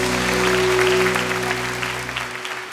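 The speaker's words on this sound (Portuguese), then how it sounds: "Vamos aplaudir ao Rei da Glória bem forte" A church congregation applauds during a worship service, the clapping steady and fairly loud over a sustained low musical drone, then tapering off toward the end.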